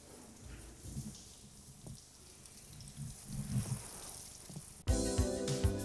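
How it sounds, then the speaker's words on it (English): A water jet rinses down a car during professional valeting, giving a steady, soft spray hiss with faint splashes that turns abruptly louder and denser near the end. "rinse off with water, taking care to angle the water jet away from the car interior"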